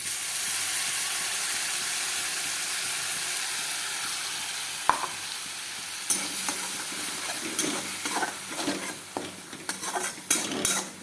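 Spice paste sizzles and fries steadily in a pan, a dense hiss that later gives way to sharper stirring scrapes and clinks of a utensil against the metal.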